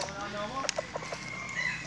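A bantam rooster crows at a crowing contest in Yaha district, Yala province, its call heard at moderate distance over the steady hum and chatter of the contest grounds.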